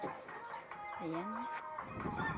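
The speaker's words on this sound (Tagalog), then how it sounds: "Ayan, mga manok po nila dito." Chickens kept at a home in Cyprus give soft, close clucks and one rising, drawn-out call amid steady background noise.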